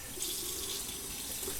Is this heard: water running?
yes